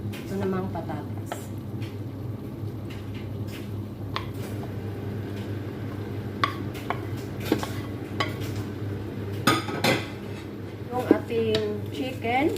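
Chicken, eggplant, potato and onion are stirred in a small, overfull wok, giving steady spatula scrapes and metallic clinks against the pan with a low sizzle underneath, under continuous talking.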